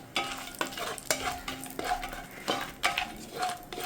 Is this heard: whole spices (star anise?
yes